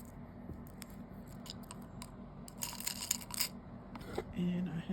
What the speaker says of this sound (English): And I have my scissors here